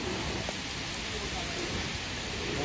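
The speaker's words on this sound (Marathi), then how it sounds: "पण ते आता पाऊस आला" Rain falling, a dense continuous hiss of drops on surfaces at even loudness, with a voice speaking faintly underneath.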